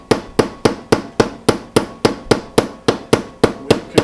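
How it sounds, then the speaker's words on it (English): A hammer taps a metal pull tab on an old Rayo No.92 lantern, fourteen sharp, evenly spaced blows at a steady rhythm, close and loud, with no talking. "We could just hammer that down just a tad."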